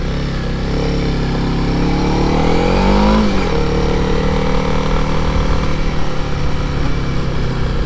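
A Honda CRF300L dual-sport motorcycle being ridden, its engine droning loud and steady with a brief rising rev and pitch shift partway through, then settling back to a constant drone.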